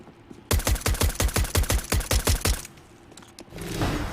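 Rapid USP pistol shots ring out in a Counter-Strike–style shooter game during a DreamHack SEA quarterfinal, about a dozen sharp cracks in quick rhythmic succession, loud and close, then a quiet tail.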